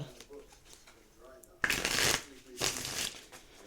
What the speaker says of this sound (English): 3 shuffles, and we'll shuffle you to get 3 numbers for you.